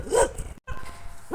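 Guard dogs on a Saudi sheep farm bark in a loud close burst near the start, then a brief silence gives way to rustling and more restless yelping toward the end.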